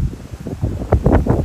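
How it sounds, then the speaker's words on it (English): Gusty wind buffets the microphone in uneven low rumbles, growing stronger toward the end, with a faint rustle underneath. "It is really windy, guys."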